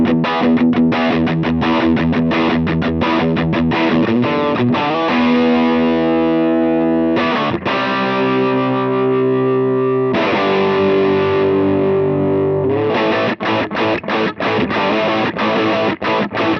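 An electric guitar from a Japanese brand roars through distortion, with fast chugging palm-muted bursts, sustained ringing chords and more choppy riffing, loud and continuous with no talking.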